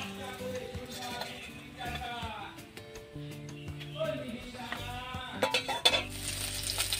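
Lentil paturi wrapped in pumpkin leaves fries in a pan, giving a moderate sizzle with some utensil clinks under a person talking.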